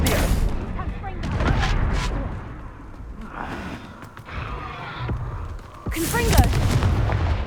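Incendio fire spell cast in Hogwarts Legacy, a burst of roaring, crackling magical flame among other combat blasts and effects, with a bright whooshing flare near the end. A voice speaks the incantation briefly.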